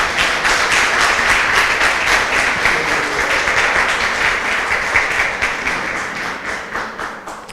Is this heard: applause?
yes